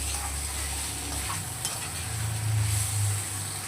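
Spices are stirred into fish curry frying in a pan, a close steady sizzle with a few scraping stirs and a brief metallic clink, and no talking.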